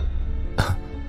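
Two dry coughs in quick succession from a man clearing his throat, close and fairly loud, over a low steady background hum.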